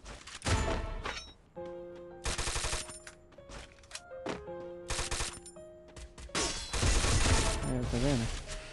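Automatic gunfire in a Free Fire ranked match: repeated rapid bursts of close, loud shots alternate with short pauses. A voice talks between and over the volleys.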